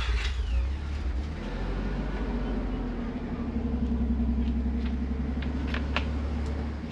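A stock Mazda 20B three-rotor engine in a Cosmo with a mild exhaust runs steadily after starting, a fairly quiet, continuous low rumble with a slight rise in revs, while people talk over it.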